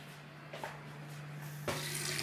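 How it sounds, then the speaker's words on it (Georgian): Strawberries are rinsed under a running kitchen tap, making a faint splashing water stream that swells in short bursts and then runs steadily over a low electrical hum. "ეხლა გავრეცხოთ მარწყვი."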